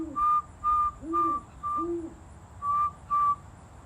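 A raptor at a raptor center gives a series of six short, clear whistled chirps at an even rhythm, close and moderately loud, with a few softer lower notes between them.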